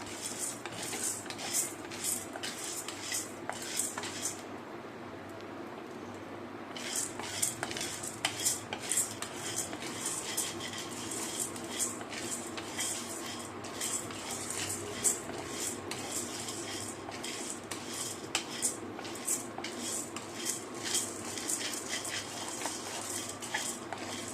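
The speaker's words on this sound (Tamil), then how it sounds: "கருகாமல் வறுக்கணும்." Ingredients for vatha kuzhambu are dry-roasted in a pan, with a utensil continuously scraping and clinking against the metal in a busy, steady rhythm, close and moderately loud, broken by a brief quieter pause.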